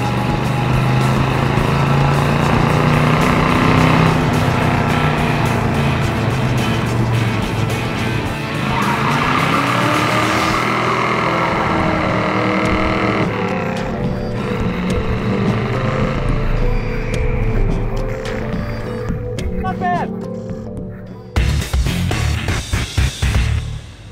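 A car engine drones steadily with rumbling road noise on a rough road, after a rear leaf spring install, its pitch rising and falling as it drives, with rattling and clatter toward the end.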